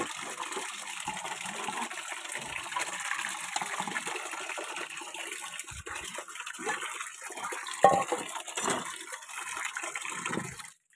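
Bamboo shoots are rinsed under running water for pickling, a steady close gush and splash lasting several seconds with small shifts as the water hits the shoots, then it stops abruptly.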